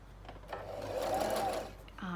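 A sewing machine stitching ruffles in Liberty fabric, a brief, close, whirring run of needle strokes that speeds up and stops, with a voice talking around it.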